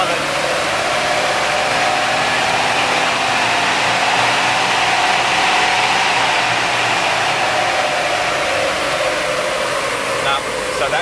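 Four-wheel-drive JDM van running hard on a dyno in top gear, a loud steady roar of engine and spinning wheels holding constant throughout with no break.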